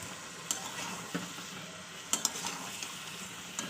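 Egg, potato and peas curry stir-frying in a pan, a soft continuous sizzle beneath a few sharp spatula taps and scrapes, quiet and close with no voices.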